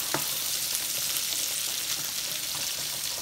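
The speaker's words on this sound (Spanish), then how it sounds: "Aquí estamos friendo el bacon." Bacon frying in a pan for spaghetti carbonara, a steady close sizzle with fine crackling and a few sharper pops, continuous throughout with no talking.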